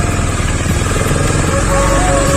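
Motorcycle engine running with some water in the silencer, a loud, steady close-up drone with a pulsing low rumble throughout, no talk over it.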